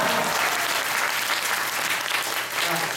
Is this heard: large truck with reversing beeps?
no